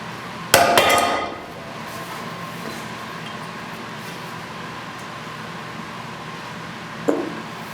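Hammer blow smashing epoxy-bonded test samples on steel plates: one sharp, loud metallic impact with a short ringing decay, then quiet workshop hum and a second fainter knock near the end.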